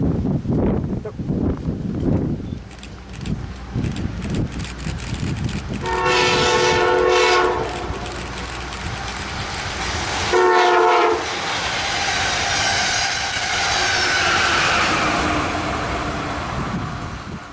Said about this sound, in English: Once the Keystone service train flew past